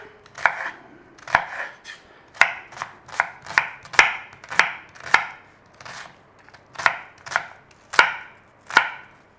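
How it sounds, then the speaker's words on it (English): A knife chops through an onion on a cutting board in about fifteen crisp, close, evenly spaced strokes, each a sharp thud with quiet gaps between, and no voices. "I've got an onion, diced fine or as big as you like"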